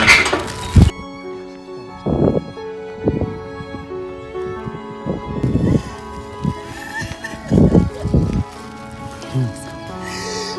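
A horse whinnies and snorts several times up close, with people talking and reacting excitedly in between.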